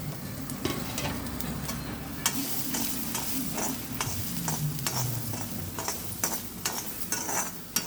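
Curry leaves and chili tempering in a hot pan, a steady close crackling sizzle with frequent sharp pops and spits and light stirring scrapes throughout, no voices.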